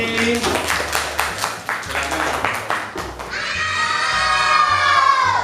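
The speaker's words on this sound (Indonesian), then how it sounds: "Ya, tepuk tangan untuk Lutfi" Children in a classroom clap and cheer, a lively burst of applause and excited shouting that swells and stays loud near the end, with voices mixed throughout.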